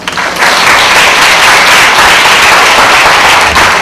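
Students in a university classroom break into loud, dense applause that stays steady and close throughout, with no talking over it.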